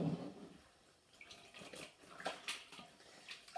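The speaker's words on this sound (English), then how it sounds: "I'm using kind of lukewarm water." Lukewarm water splashes and runs while something is hand washed with a scouring ball, a soft, close, irregular sloshing with a few brief clinks and no talking.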